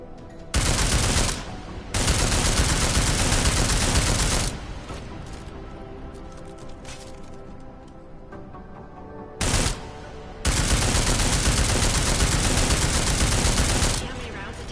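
Loud bursts of sustained automatic gunfire at an armored target in Deus Ex: Mankind Divided, two long volleys of several seconds each, separated by a quieter gap.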